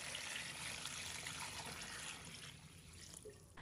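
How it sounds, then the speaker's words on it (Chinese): Clean water pours steadily into a bowl for washing king oyster mushrooms, a soft continuous trickle and splash at low level that eases off near the end. "倒入清水"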